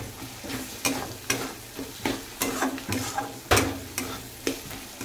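Onion and garlic stirred and fried hard over a high gas flame for a chicken dish: a rhythmic series of scraping spoon strokes, roughly two per second, rides over a steady close sizzle, with no voices.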